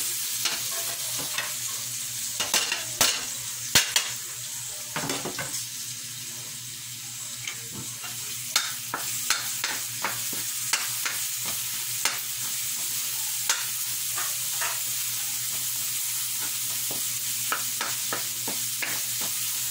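Ground pork fries and sizzles in a pan for spaghetti sauce, with a steady hiss broken by repeated sharp scrapes and clanks of a spoon stirring, no talking.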